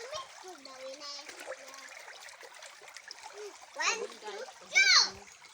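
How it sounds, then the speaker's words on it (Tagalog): A child splashes while swimming in water, with uneven splashes, two louder bursts near the end, and a voice and other chatter throughout. "Yung anak ko, enjoy na enjoy sa kakalangoy-langoy."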